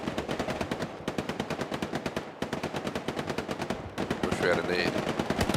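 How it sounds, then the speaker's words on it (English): Rapid bursts of machine gun fire rattle loudly in the World War II shooter Hell Let Loose, several sustained volleys with short gaps between them, and a voice briefly speaks over the shooting. "Got another machine gunner on here."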